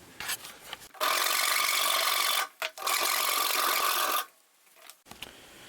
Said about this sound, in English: the 91mm is a lot more comfortable to do sawing cuts with